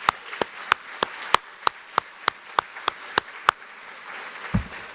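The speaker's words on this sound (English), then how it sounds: "so give them a round of applause as well" Sparse hand claps at a college foundation awards celebration, sharp, evenly spaced and fairly close, a slow run of a dozen or so that stops short, with no voices.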